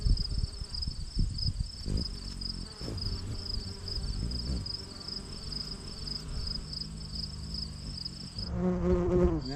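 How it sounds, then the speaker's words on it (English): A non-honeybee bee buzzes among garden sunflowers, a faint, continuous insect drone with a steady high whine, over scattered low rustling and knocks near the end. "That's a bee, but it's not a honeybee."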